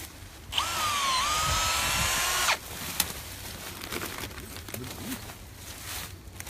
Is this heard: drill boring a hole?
yes